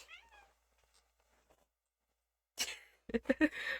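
A pet cat meows near the microphone at the start, a clear rising and falling cry, then after a pause a person speaks loudly in short bursts.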